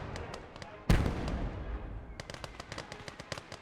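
A single heavy boom from an 82mm BM37 mortar in a military strategy game, a loud thump with a lingering rumble, followed by faint scattered crackles and pops in the distance.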